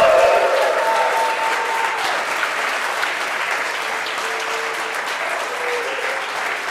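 An audience at an Empower Network live event applauds and cheers steadily, a dense wash of clapping and crowd noise that holds loud throughout without pause.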